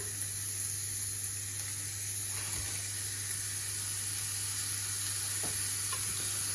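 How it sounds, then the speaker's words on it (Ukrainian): Continuous soft sizzle of burger patties frying in a covered pan, steady and even, with a low hum underneath and no talking. "І будемо смажити під кришкою з двох сторін."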